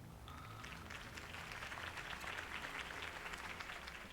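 Crowd applause following Harvey Dent's campaign speech in Gotham City, a sustained wash of clapping at moderate distance with low background sound beneath it.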